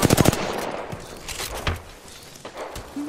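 Gunfire in Apex Legends: a rapid opening burst of close shots followed by scattered single shots and movement noise across a few seconds, with no talk over it.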